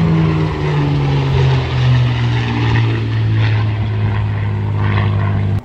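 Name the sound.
Supermarine Spitfire aircraft engine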